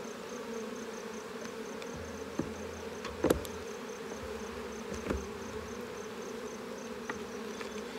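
Honeybees drone in a steady, close buzz around a hive, with a few brief knocks and taps breaking through the continuous hum.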